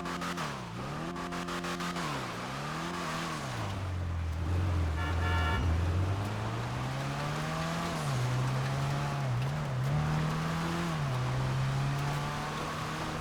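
A Bravado Dorado car engine in GTA Online revs up and down repeatedly, its tone rising and falling, then settles into a steady drone with small pitch dips, heard alone and fairly quiet.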